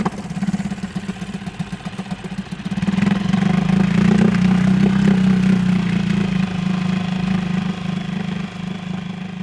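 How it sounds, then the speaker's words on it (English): A small Yamaha outboard boat motor on Loch Fyne in cold winter weather pulls into life and settles into a steady, loud running drone with a low throbbing pulse, with no voices heard. "the wee Yamaha always starts on the second pull, regardless of how cold it is"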